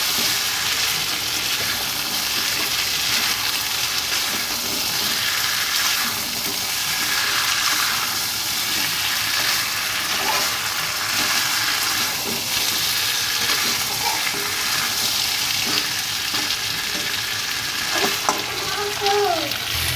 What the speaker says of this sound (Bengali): জল শুকিয়ে যখন তেল ছেড়ে আসবে তখনই মনে হবে যে কষানো হয়ে গেছে এখানে আমার মাংসটা প্রায় কষানো হয়ে গেছে